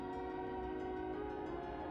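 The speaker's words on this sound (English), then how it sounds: "Do you guys hear the whistle? They must be practicing." A whistle sounds in the distance as one sustained, steady tone held throughout, faint and alone.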